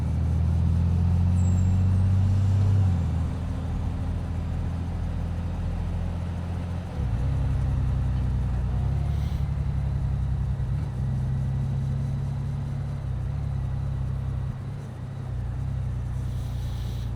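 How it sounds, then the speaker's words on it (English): A garbage truck sits in traffic near Rockaway Beach, heard from a motorcycle close behind: a loud, steady low engine rumble with slight wind noise, shifting a little in pitch as it idles and creeps along. "What is this garbage truck doing in front of me?"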